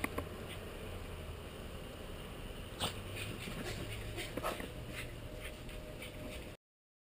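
A dog out in the snow whimpers and pants, faint, soft breaths and small whines over a quiet, steady background, with no one talking.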